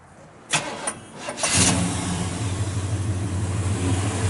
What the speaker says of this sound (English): Good running motor in it.